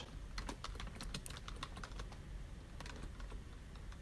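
Quick, light clatter of a computer keyboard as a Git commit message is typed, with irregular bursts of keystrokes close by and quiet, with no talking.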